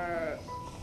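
A lamb bleats once on a village farm, a wavering, harmonic cry fading after a moment, fairly faint.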